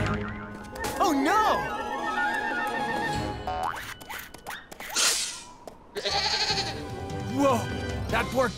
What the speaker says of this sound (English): A baby mountain goat is stuck on the snowy mountains.